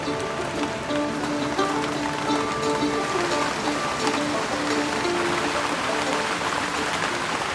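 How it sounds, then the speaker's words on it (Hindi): Heavy rain pours steadily on a mountain trek trail, a dense, loud, even hiss of drops on leaves and ground with faint tonal hums running through it and no pauses. "सामने से बड़ी तेज बारिश आ रही है केदार घाटी से"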